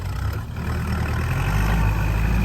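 A new Kubota MU4902 tractor's diesel engine runs steadily up close, a loud continuous low rumble with no talk over it.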